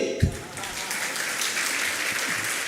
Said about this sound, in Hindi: बजाओ तो ताली।